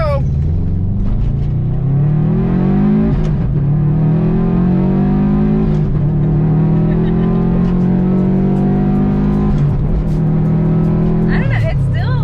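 A Subaru STI launches hard with launch control, its engine revving and pulling up through the gears with rising roars broken by brief shift dips, loud and close from inside the car.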